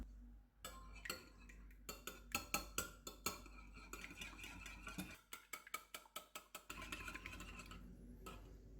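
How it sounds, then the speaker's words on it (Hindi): Eggs being whisked in a bowl, a close run of rapid rhythmic clinks and taps of the whisk against the bowl with brief pauses, no talking. "अंडों को फेंट लेते हैं।"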